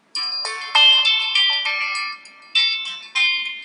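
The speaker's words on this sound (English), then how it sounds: "I'm going to set it as a ringtone for Samsung Galaxy S3." MIUI stock ringtone played on a Samsung Galaxy S3: a bright, chiming electronic melody of bell-like notes in quick, clear phrases, fairly loud and alone for several seconds.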